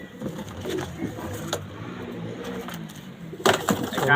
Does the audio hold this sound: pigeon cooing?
yes